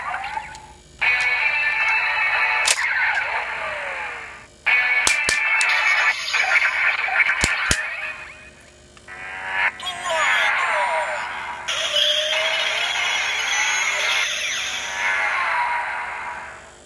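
Kamen Rider Drive Shift Trideron toy attack effects play as loud, bright electronic bursts with clicks in between, several segments running back to back and close up.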